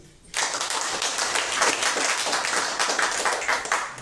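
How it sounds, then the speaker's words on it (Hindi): Loud clapping from a meeting audience in India, a dense continuous patter that starts abruptly after a brief quiet moment and holds steady for several seconds. "आप लोग के जोरदार ताली।"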